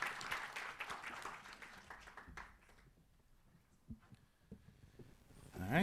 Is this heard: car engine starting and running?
no